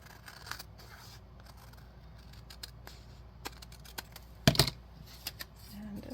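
Scissors cut paper while trimming an extra bit from a junk journal page, giving faint, sparse snips and light paper rustles with one louder cutting crunch midway.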